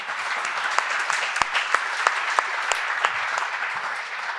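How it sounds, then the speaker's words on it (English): An audience applauds during a lecture on the laws of war, with moderately loud, fairly sparse claps standing out as distinct sharp hits over a continuous clapping wash. "I think that was applause for Israel, or your kishkas"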